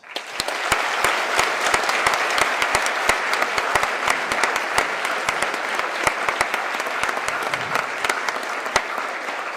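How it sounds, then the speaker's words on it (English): A crowd at a student event in Iron County gives Governor Spencer Cox a big round of applause, dense clapping with sharp individual claps standing out, sustained for several seconds. "Please give a big round of applause for our Governor Spencer Cox"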